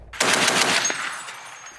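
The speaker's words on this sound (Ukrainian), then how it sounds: "І навіть трошки постріляємо з кулемета." A short, loud burst of machine-gun fire, rapid shots blurring together, then fading into a ringing echo, fired from a British Spartan FV-103 armored personnel carrier.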